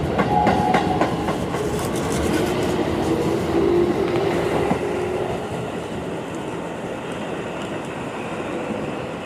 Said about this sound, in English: I'm gonna say the name of the station after this train passes by.